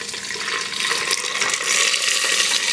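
Hot homemade virgin coconut oil pours and trickles through a makeshift strainer into a glass Pyrex measuring cup, a loud, close, continuous liquid rush.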